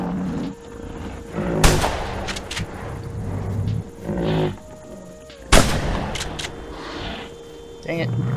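Two loud, sharp gunshots about four seconds apart in the hunting video game The Hunter Primal, ringing out over a steady ambient game background with quieter thuds in between.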